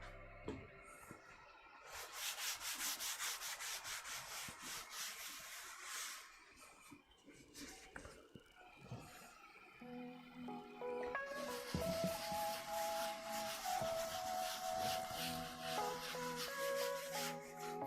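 Someone rubs and wipes down a 3D printer bed, making a continuous hissing scrub that pauses briefly in the middle and then returns under a steady whirring tone from the printer.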